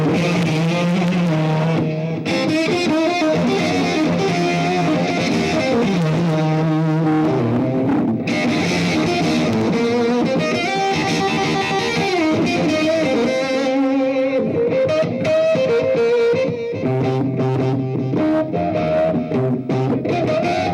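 A guitarist playing electric guitar through a Peavey amp on the clean channel at NAMM 2009, the amp breaking up on a continuous run of melodic lines and chords, loud and sustained without any talking.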